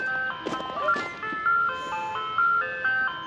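Somewhere outdoors, an ice cream truck plays its jingle, a bright, tinny melody of steady beeping notes, moderately near, with a few brief clicks and knocks early on.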